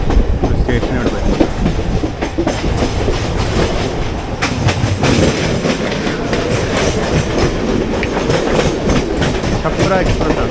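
Chhapra Express passenger train rumbling past on an Indian main line, loud and close, with steady clattering wheels and rail noise throughout.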